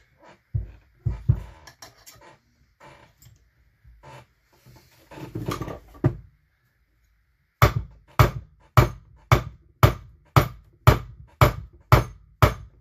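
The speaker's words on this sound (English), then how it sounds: "Bump stuff with the hammer." Sharp metallic hammer blows on the flywheel of a McCulloch D44 hot saw, a few scattered knocks at first, then a rapid even series of about ten loud strikes close by.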